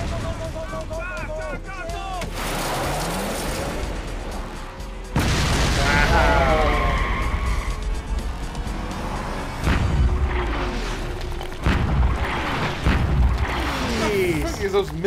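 Missile explosions from the TV show Preacher, several loud booming blasts with rumbling tails that swell and recur across the span, mixed with music and overlapping sound effects, no clear talk over them.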